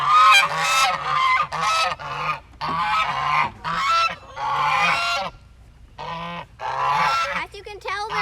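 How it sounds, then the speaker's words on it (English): Geese honk loudly and repeatedly close by, harsh overlapping calls coming in quick bursts with brief gaps. "These are our geese."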